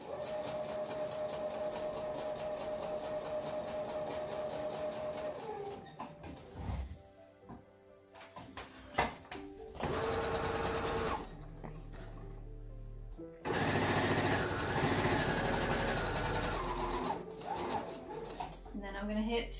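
A sewing machine stitching an angel wing flag runs in a few bursts of steady mechanical whirring, including a short reverse stitch. Quieter pauses and handling noise sit between the runs, and a voice talks nearby.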